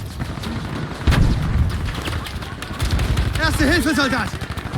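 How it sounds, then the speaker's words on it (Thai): Gunfire and explosions in the video game Battlefield V, including a Thompson gun: heavy, continuous shooting with booming blasts that stays loud throughout, while players talk and shout over the battle. "ยิงอะไรกันวะเอามาเพื่อนลุกขึ้น"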